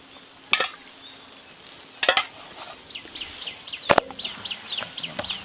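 Kerala parotta, a big layered family-size flatbread, sizzles in oil on a hot griddle, with a soft steady fry under sharp clattering scrapes and taps of a spatula at intervals.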